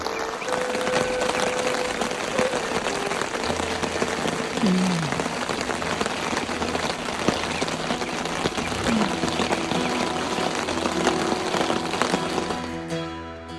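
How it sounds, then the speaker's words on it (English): Rain falls at a lakeside wilderness campsite in the Boundary Waters, a steady dense patter on surfaces close by, with a few faint background sounds under the continuous hiss. "So getting a little bit of rain here."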